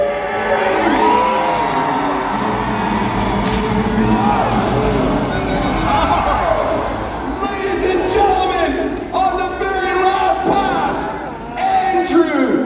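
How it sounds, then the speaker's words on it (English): Spectators at a jousting match between Canadian and American knights scream, cheer and whoop loudly and continuously as the knights ride toward each other, with an announcer talking over the crowd noise. "Knights coming about, and the crowd screams."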